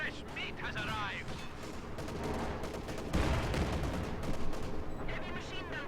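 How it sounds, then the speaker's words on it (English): Heavy machine gun fire in the game Company of Heroes 2, rapid bursts and booming battlefield explosions filling the scene, growing heavier midway with dense impacts and rumble. "Heavy machine gun firing at us"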